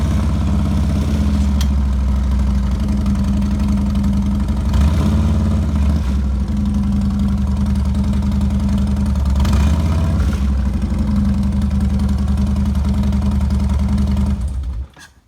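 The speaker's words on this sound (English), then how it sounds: "Turn it to run, and then you hit the start button." A motorcycle engine runs at a steady idle with a low, even throb, close and loud, with a couple of slight revs before it cuts off at the end, no voices.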